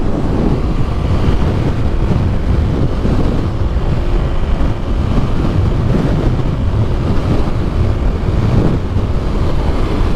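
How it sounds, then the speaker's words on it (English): Strong wind buffeting a microphone beside abandoned Route 66 between Montoya and Cuervo, Texas: a continuous loud, low rumbling roar that never lets up, with no clear voice over it. "So windy, I can't even hear."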